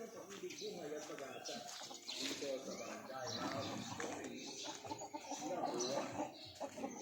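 Chickens cluck and murmur on a farm with pigs, their calls scattered and close, mixed with a voice talking.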